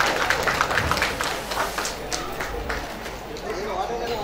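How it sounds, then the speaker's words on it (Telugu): Audience clapping at a Telugu women's pageant contest event in Visakhapatnam, a steady wash of applause from a crowd that fades slightly toward the end. "క్లాప్స్ ఇవ్వాలి కదా."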